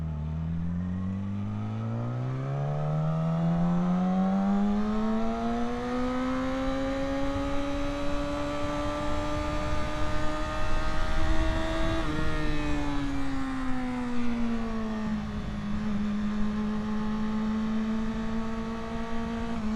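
A car drives down Main Street at night, its engine note rising steadily as it accelerates, easing briefly around a gear change, then holding a steady hum, loud and close throughout with no talking.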